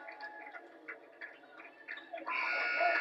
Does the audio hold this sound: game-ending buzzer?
yes